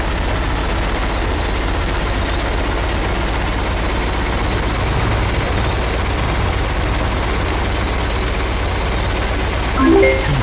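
A World of Tanks tank engine drones steadily at a constant heavy low rumble, loud and unbroken throughout, with a faint brief tone near the end.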